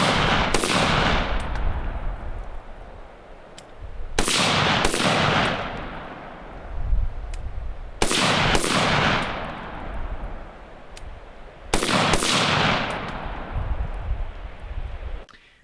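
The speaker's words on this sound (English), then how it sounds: "We'll see how quick we can get shots on a minute of" Four loud rifle shots at an outdoor range, fired at a one-third man-sized target 20 yards away, evenly spaced about four seconds apart, each a sharp crack followed by a long, rolling echo.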